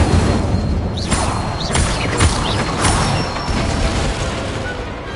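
Incendio, a fire spell, is cast in Hogwarts Legacy, giving a sustained rushing roar of flame with brief whooshing flares and faint magical chirps on top.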